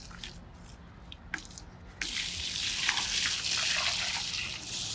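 Water from a bucket drips and splashes onto a WOKIMA 400W solar street light in a waterproof test, scattered drips first, then a sudden louder rush of pouring water.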